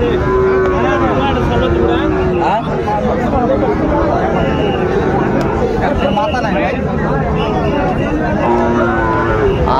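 Cattle low repeatedly at a busy cattle market in Cumilla where Sahiwal bull calves are traded. Drawn-out moos rise over constant crowd chatter and bargaining voices.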